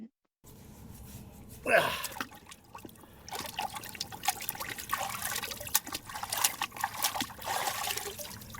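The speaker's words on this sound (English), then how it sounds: "Now I'm just gonna rinse in here." Water trickles and splashes while a dirty, dug-up gun receiver gets rinsed, a steady nearby dribble with brief pours, and a voice talks over it partway through.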